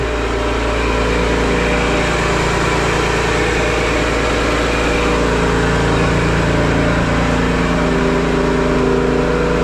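Audi A6 engine idling right after a cold start, loud, rough and steady at close range with a constant low drone and faint mechanical ticking, no talking.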